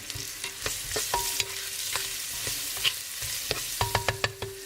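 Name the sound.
food frying and being stirred in a pan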